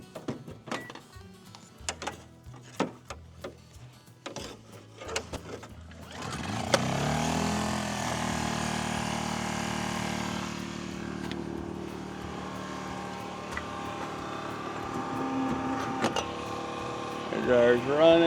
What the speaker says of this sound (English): So we'll try the hair dryer on low. I can't run it on high with the generator